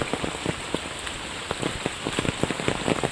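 Heavy rain pours steadily in a hilly, rain-soaked region, drops patter densely on surfaces as running water flows nearby, loud and continuous.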